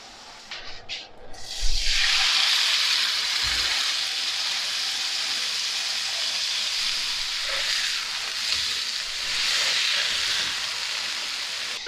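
Steak searing in a hot pan with butter, a loud steady sizzle that flares up after the meat hits the pan at about two seconds and holds, crackling, throughout with no talk.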